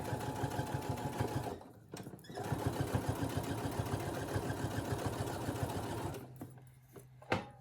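A Brother SE1900 sewing machine running a straight stitch, a rapid mechanical needle chatter in close bursts with two brief pauses, the second near the end, and a light clunk at the finish.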